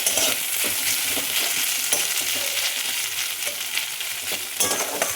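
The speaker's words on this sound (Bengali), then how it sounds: "ভালো করে নাড়াচাড়া করে নেব।" Marinated chicken with ginger paste is stirred in a frying pan, giving a steady crackling sizzle broken by repeated scraping strokes of a spatula, close up with no voices.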